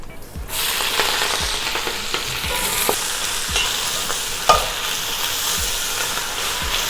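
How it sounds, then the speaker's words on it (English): Fresh spinach hits hot oil in a soup pot, a constant loud sizzle broken by repeated scraping stirs and clacks of the utensil at a steady pace. "Now you should start adding the spinach by batch."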